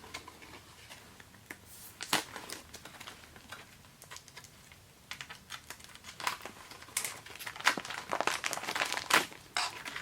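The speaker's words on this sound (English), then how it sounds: "You have 4 pull tabs that you can open this up with." Packaging wrapper of a bandage crinkles and tears as its pull tabs are opened, giving irregular bursts of close papery crackling with quiet gaps between.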